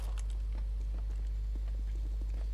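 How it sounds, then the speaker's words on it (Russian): Player footsteps running in CS:GO, a quick series of soft, evenly spaced thuds over a steady low electrical hum, fairly faint and without talking. "слушаем звуки игроков, которые здесь бегают"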